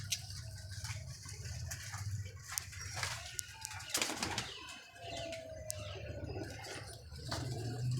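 Pigeons kept by a pigeon fancier coo in low, rolling murmurs close by, with wings flapping and brief rustles and knocks in between.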